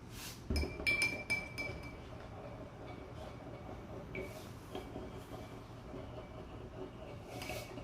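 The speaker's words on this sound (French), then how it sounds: "Et maintenant, on va mettre du sel dans notre eau. Et on va bien remuer." A spoon stirs salt into water in a glass, giving quick clinking taps against the glass that ring out early and then thin to occasional light chimes over a quiet background.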